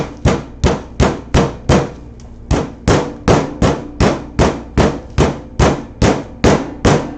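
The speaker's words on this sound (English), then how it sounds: "We're pounding it down so it gets a little bit thinner than an inch." Chicken breast under plastic wrap is pounded thinner with a steady series of about seventeen sharp, loud, evenly spaced thuds, close and with no talking.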